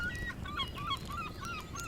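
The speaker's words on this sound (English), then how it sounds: "Can you still hear them pesky seagulls and squidhawks in Phlegon, boy?" Seagulls call in faint, high, repeated squawks over a low, steady background rumble, with no voices.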